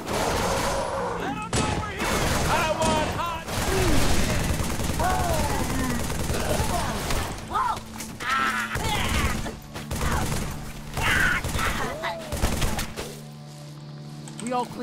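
Player weapon gunfire in the shooter game Halo 3, rapid bursts of shots and explosions repeating through the scene, dense and loud with game music and dialogue layered underneath.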